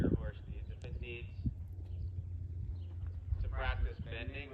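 A horse walks during a riding clinic, its hooves thudding in a loose, irregular clip-clop close by, mixed with light wind noise while a person talks over it.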